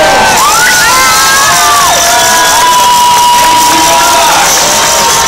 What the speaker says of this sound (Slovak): Najväčší huk, najväčší ošial a najväčší aplauz